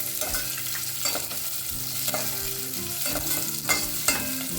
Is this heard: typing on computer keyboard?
no